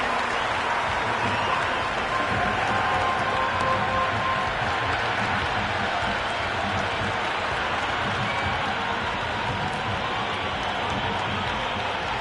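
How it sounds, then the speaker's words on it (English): Stadium crowd in the Cricket 26 video game roaring after a bowler's hat-trick in an India vs Bangladesh T20 World Cup match, a steady dense cheer and applause wash holding loud throughout. "That's a hat-trick, and the crowd are going wild."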